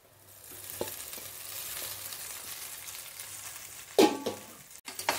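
Leftover rice is stirred and fried with onion-garlic masala in a pan, a soft steady sizzle that builds gradually, then a few louder scraping stirs and clanks near the end.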